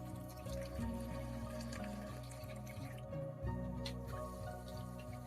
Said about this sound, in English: After placing in the completed waterfall and feeding the tube into the pump, I filled up the jar with water so that I could give it a test.